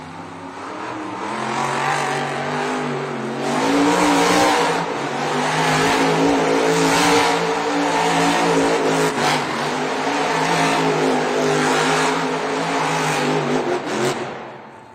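Jurassic Attack, a Monster Jam monster truck, revs hard doing donuts on an arena track in Denver, engine roaring and surging loudly and continuously, swelling and dipping across the run over crowd noise.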